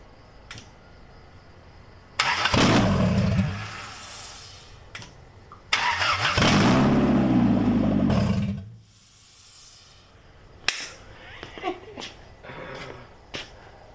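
An H22-swapped 1998 Honda Prelude, running straight out of the headers, cranks and roars loudly to life in two long, rough bursts, each dying back between, followed by scattered clanks and knocks nearby.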